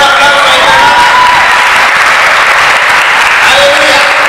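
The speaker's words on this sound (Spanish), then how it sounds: "Denle un aplauso a Dios." Loud, sustained applause from a church congregation, with clapping mixed with crowd cheering and voices, filling the whole stretch without a break.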